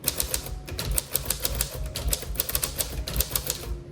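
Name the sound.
Smith Corona Silent typewriter typing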